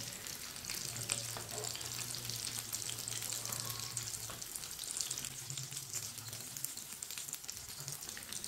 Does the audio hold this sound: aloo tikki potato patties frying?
yes